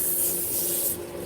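Close, steady abrasive rubbing of sandpaper worked against a machined shaft, a continuous hiss that eases slightly near the end of the brief stretch.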